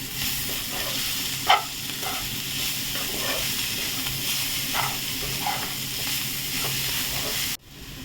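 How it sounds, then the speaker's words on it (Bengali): Soya egg rice with vinegar and salt is stir-fried in a pan, giving a steady low sizzle with a few sharp spatula scrapes and knocks, close and alone. "দিয়ে এটাকে আবার ভালো করে কষাবো,"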